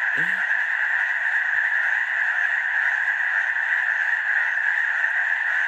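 A loud, dense chorus of frogs croaks continuously at a campsite on the Pacific Crest Trail, a steady droning wall of calls with no breaks.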